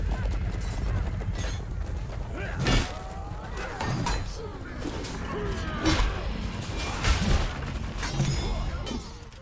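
A horse galloping in the medieval combat video game Chivalry 2, rapid hoof clatter mixed with clashing battle noise, whinnies and a player talking over it.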